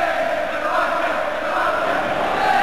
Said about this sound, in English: the crowd here inside Victoria Ground today is generating an awful lot of noise